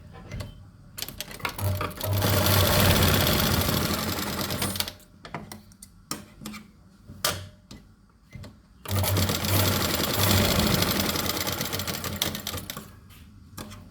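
A sewing machine stitches fabric for a hair band, running in two long steady bursts of rapid needle clatter separated by a few seconds of short stops and starts, close and loud with no talk.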